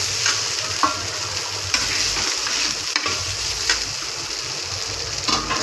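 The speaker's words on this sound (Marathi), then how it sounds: "साबुदाणे टाकले, आपण ते आता हलवूया." Sabudana (sago pearls) stirred in a frying pan, giving a loud, continuous sizzle with periodic scraping strokes of the spoon against the pan, close up and with no talking.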